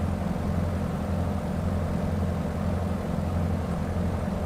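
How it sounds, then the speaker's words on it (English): Steady droning aircraft engine in Microsoft Flight Simulator 2020, a constant low hum with strong bass harmonics running evenly throughout, no talk over it. "I'm hearing a second engine."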